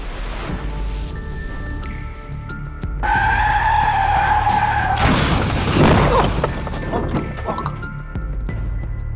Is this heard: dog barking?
no